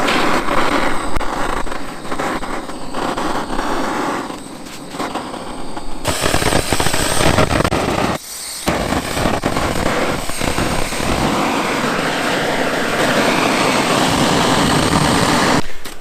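Wooden skis being heated to burn off old tar, pollen and dust, likely with a torch: a loud continuous roaring rush outdoors that holds steady for the whole stretch, with one brief dropout partway.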